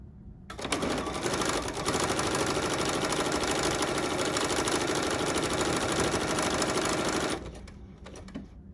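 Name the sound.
sewing machine stitching a flower pattern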